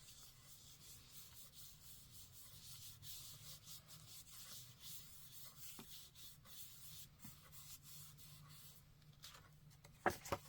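Paper is rubbed by hand over a freshly stamped image to transfer it, giving a soft, faint, continuous scratchy rubbing with small irregular strokes and a couple of louder taps near the end.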